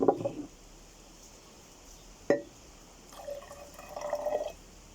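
Red cabbage juice poured into a container of disinfectant, with a brief splash at the start, a sharp drip or knock midway, and a soft trickling pour near the end, faint and without talk.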